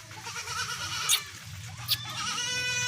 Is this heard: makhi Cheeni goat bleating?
yes